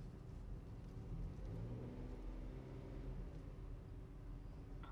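A manual car driven by a learner driver, its engine a steady low rumble and drone throughout as the driver shifts into second gear, with no clear rev spikes or gear clunks standing out.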